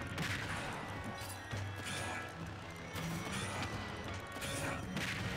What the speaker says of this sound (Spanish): Literalmente puras explosiones en este match.